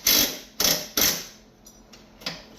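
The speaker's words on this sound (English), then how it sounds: "You're just going to kind of crack them loose." A wrench cracking loose the chain adjuster bolts on a 1988-2006 Yamaha Blaster ATV, three sharp metallic ratcheting clicks followed by fainter ones, close and crisp with short pauses between.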